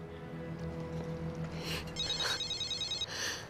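A telephone rings against a low humming background, its electronic trill sounding clearly in the second half of the short stretch, with no talking.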